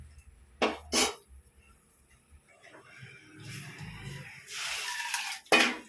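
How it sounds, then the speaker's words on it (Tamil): Soaked toor dal is poured into a pressure cooker, heard as a soft wet sloshing pour between a few sharp metallic clinks and knocks of the vessel, close by and fairly quiet. "இது அப்படியே எடுத்து நம்ம குக்கரில் ஊற்றிடலாம்"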